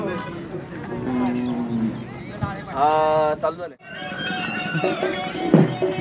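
Deep bull lowing rises amid a busy crowd at the final day of a bullock cart race event in Nimgaon Ghat, with people talking throughout and a loud outdoor hubbub.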